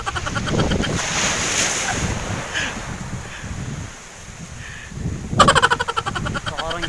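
Sea waves washing onto a beach in Carcar, Cebu, a steady broad surf wash mixed with gusty wind buffeting the microphone, rising into a louder rush near the end, with no speech.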